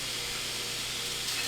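An old, dull belt on a belt grinder strips hard scale from a forged seax blade, giving a steady, close, unbroken hiss of abrasion with no voices.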